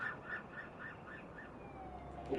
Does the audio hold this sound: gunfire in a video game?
no